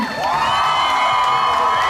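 A crowd cheers and whoops for breast cancer survivors at a Susan G. Komen More than Pink 2019 event, a steady loud wash of voices lasting throughout with some higher shouts rising above it.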